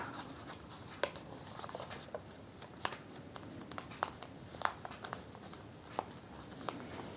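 Paper is folded and pressed to make an origami wheel, giving soft close rustles and scattered sharp crisp creasing ticks at irregular intervals over a quiet background.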